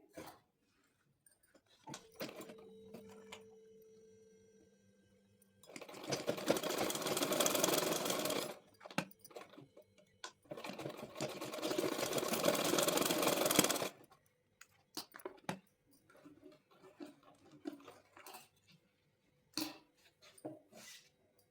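Sewing machine stitching palazzo pants, two long loud runs of rapid mechanical whirring and needle clatter separated by a pause, with quieter handling clicks and fabric noise before and after.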